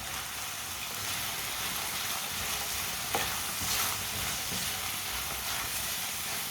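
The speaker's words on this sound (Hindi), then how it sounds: "मसालों को 1 मिनट के लिए पका लेंगे" Spices cook in a pan over raised heat for a winter pea dish, producing a dense, even hissing sizzle throughout with a couple of faint utensil taps, close and steady.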